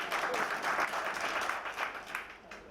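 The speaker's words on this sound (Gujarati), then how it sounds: "કલ્પેશ માટે તાળી દઈએ" Participants at a Jivanvidya workshop in Visnagar, Gujarat, applaud in a sustained round of many hands clapping, moderately loud and steady, easing slightly toward the end.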